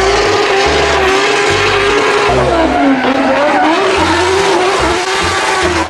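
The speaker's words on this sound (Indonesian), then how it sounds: "Di sini ada mobil balap Formula F1." A toy Formula 1 race car plays a loud electronic racing sound, a continuous whining engine tone with tire-squeal effects over a pulsing beat.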